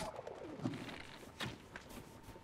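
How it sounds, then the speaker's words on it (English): Chicken in Zelda: Tears of the Kingdom giving a few short soft clucks and coos, faint against quiet game ambience. "Oh, hey, chicken."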